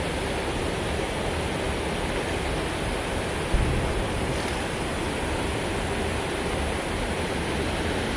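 Steady broadband rush of water flowing in a small creek where rainbow trout are being fished, a constant near wash with no talk over it.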